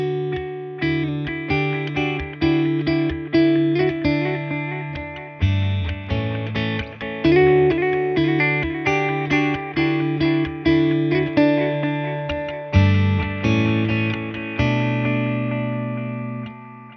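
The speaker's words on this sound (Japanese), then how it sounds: "フィルターとか歪みとか汚し系のエフェクトを足すことでアナ" Notes played through a Meris LVX delay pedal with added filter and distortion, giving a gritty, lo-fi character. Plucked notes follow each other steadily, each trailed by decaying, slightly smeared repeats that blur together, with no voices.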